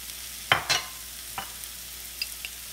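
Vegetables and mushrooms frying in a pan as spices go in, a couple of close scraping stirs followed by softer taps over a quiet sizzle.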